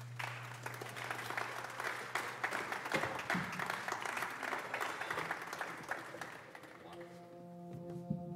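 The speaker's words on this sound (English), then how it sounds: "let's give them a wonderful round of applause" Audience applause at a university honors day recital, moderate clapping from the hall that is fairly quiet overall, with a steady low tone underneath and a brief sustained chord-like tone as it tapers off.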